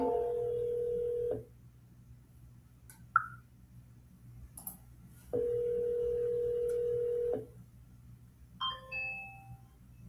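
Ringback tones of an outgoing phone call, two long steady electronic tones separated by a pause, followed by faint short beeps and clicks on the line.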